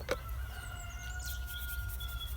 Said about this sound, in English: These cockerels are competing here.